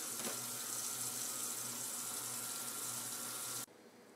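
Masticating juicer parts are rinsed under a running tap, a steady loud rush of water splashing in a sink that stops suddenly near the end, leaving quiet room tone.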